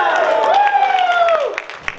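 A rally crowd stands and cheers in a supporters' gathering, a sustained roar of voices with scattered clapping that fades toward the end.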